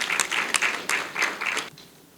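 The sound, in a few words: applause welcoming the minister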